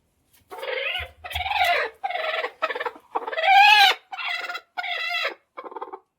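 A brooding hen clucks and squawks repeatedly in a series of close, loud bursts with short pauses between them.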